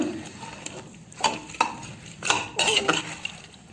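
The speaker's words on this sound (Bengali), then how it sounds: "এখন এগুলো ভালোভাবে গোস্তগুলো একটু মাখায় নিচ্ছি" Meat being mixed by hand with cumin powder, other spices and oil in a metal pot, giving soft squelching stirs broken by several sharp clinks and scrapes against the pot.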